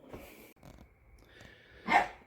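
A dog gives one sharp bark near the end after a few quieter sounds, close by in a quiet setting.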